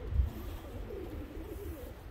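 Pigeons or doves coo softly outdoors in a short run of low, rolling calls, nearby and moderately loud, with no voices.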